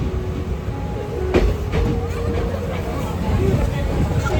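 A train at a railway station, with a low rumble of rail cars, a short high squeal of wheels or brakes, and a murmur of crowd voices around the platform.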